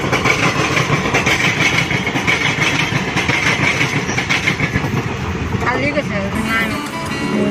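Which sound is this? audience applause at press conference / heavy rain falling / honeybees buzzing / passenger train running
passenger train running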